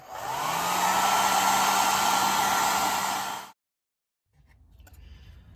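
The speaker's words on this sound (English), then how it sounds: "I'm using a blow dryer, just a regular home, just a regular home blow dryer." A household blow dryer drying paint runs loud and steady with a high whine for about three and a half seconds, cuts off to silence, then faint handling noises follow.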